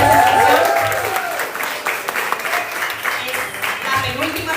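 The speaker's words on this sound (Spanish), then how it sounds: "Les pido que recibamos con un fuerte aplauso ahora sí a Asier Andrés" Audience applause welcoming a presenter at a conference event, loud clapping that starts strong and slowly thins out, with a voice speaking over it early on.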